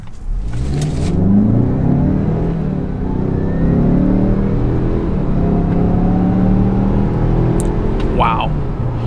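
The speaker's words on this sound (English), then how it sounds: "we're going to put this in sport mode, but let's see what the 0 to 60 is going to be" A 2020 Mazda CX-5 Signature in sport mode pulls hard from a standstill toward 60 mph, its engine note climbing steadily and loud with a brief shift, while a voice talks over the run.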